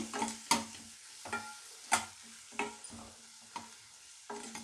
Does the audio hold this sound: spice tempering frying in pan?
yes